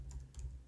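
A few quick keystrokes on a computer keyboard, two or three soft clicks in under a second, close and quiet.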